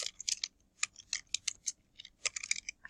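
Fast, irregular clicks of computer keyboard keys, crisp and close, clustered in quick runs with brief gaps and no voice over them.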